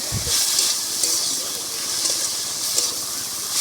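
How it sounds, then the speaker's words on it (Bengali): Kolai greens frying in a pan give off a continuous sizzling hiss with soft steam and crackle, steady and near throughout, preceded by a brief low thump. "শাকগুলোকে প্রথমে ভাজতে হবে"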